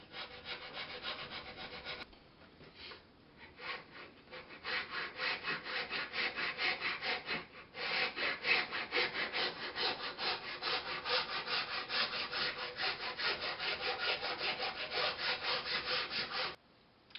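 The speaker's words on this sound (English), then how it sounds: "It's a lot easier to do with a file than a sandpaper." A hand file rasps back and forth across the wooden body of a lap steel guitar in steady, close strokes, a rough scraping rhythm that runs almost continuously with a couple of brief pauses.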